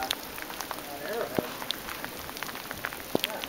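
Rain falls in snowy mountains during a storm, a steady patter with scattered sharper drops striking nearby surfaces; the shower continues throughout at moderate loudness.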